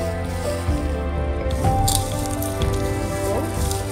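Masala peanuts mixed by hand make soft, wet squishing and rustling sounds, with small irregular taps and grainy crackles running steadily and close up throughout. Faint kitchen noise sits underneath.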